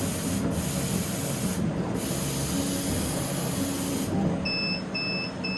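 Air assist on a laser cutter blows a steady, broad hiss of compressed air that runs loud and unbroken close by, with faint electronic beeps near the end and no voices.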